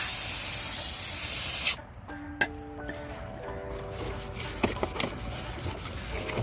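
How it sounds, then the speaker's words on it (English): Brake cleaner sprays from an aerosol can onto a new front brake rotor for a 2016 Ford Fiesta SE 1.6, a loud steady hiss that cuts off sharply, followed by faint clinks and metallic ringing. "Spray the new one down with brake cleaner."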